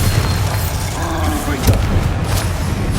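A Bombarda spell goes off in Hogwarts Legacy, giving a deep booming blast inside a dense wash of game effects and rumble.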